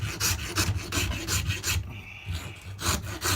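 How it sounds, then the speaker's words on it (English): A dragon rasp files a carved wooden shorebird bill in rhythmic back-and-forth strokes, close and coarse, with a short pause midway before filing resumes. "I'll switch over to my dragon rasp."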